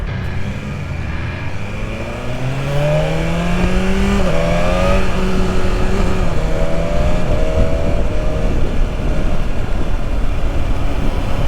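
A 2021 BMW S1000RR motorcycle engine under riding wind noise, with rising and falling revs as it shifts, including quick throttle blips from the auto blipper, loud and close throughout.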